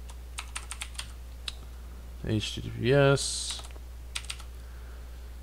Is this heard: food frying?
no